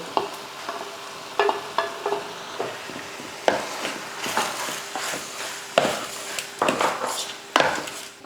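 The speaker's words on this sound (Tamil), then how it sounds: "நல்லா கலந்து விட்டாச்சு நல்லா சிக்கன் வதங்கி எண்ணெய் தெளிஞ்சு வரட்டும்" Chicken is stirred and sautéed in a pan with onion, ginger garlic paste and turmeric: a low background sizzle broken by repeated scraping and clattering strokes of a spoon against the pan, irregular and close, with no talking.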